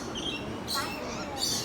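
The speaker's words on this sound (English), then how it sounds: "Hello, little birds. You're so lovely." Small birds outdoors in Florida give a couple of brief, high chirps over a low, steady background hum.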